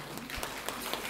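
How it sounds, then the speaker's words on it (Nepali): Audience at a cooperative's annual general meeting applauds, a brief, steady patter of clapping from many hands in a hall, moderately distant and without voices over it. "सम्मान स्वरूप ताली बजाइदिनु होला।"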